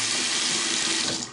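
Water runs from a faucet fitted with a new low-flow aerator, a brief close, steady splashing rush into a sink.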